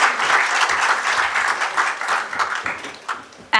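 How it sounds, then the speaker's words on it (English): Audience applause at a seminar's inaugural function in a hotel in Lonavala, a close, lively round of clapping that swells and dips before a final sharp burst. "thunder of applause"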